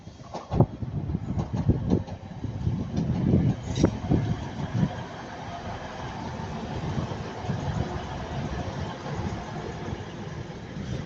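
A single Class 185 diesel multiple unit rumbles past at Ardwick with a low, rolling engine drone and a few wheel clunks. It is fairly faint and fades gradually.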